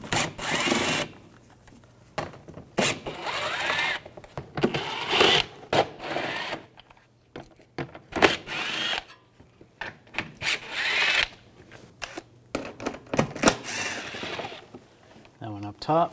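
A ratchet wrench with an 8mm socket backs out bumper screws on a 2006–2010 BMW 550i, giving repeated short bursts of rapid clicking separated by pauses, close and clear with occasional handling noise.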